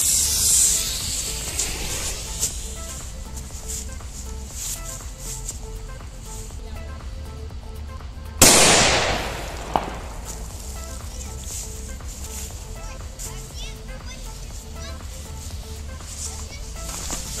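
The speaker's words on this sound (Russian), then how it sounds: "у меня с прошлого года осталась парочка петард, поэтому я решил просто смартфон взорвать" A firecracker explodes against a rugged Oukitel WP8 Pro smartphone, giving one sudden loud blast that decays over a second or so, with a smaller pop shortly after, over steady background noise.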